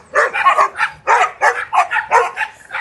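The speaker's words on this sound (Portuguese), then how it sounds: "Os cachorros ali latindo." Several dogs bark in quick, repeated bursts, loud and close, with no talking over them.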